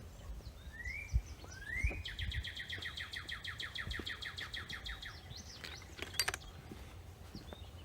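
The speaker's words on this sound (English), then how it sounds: "That bird is busy." A bird chirps busily outdoors in spring, a long rapid trill of bright repeated notes with a few rising whistles, close and clear over faint background noise and occasional knocks.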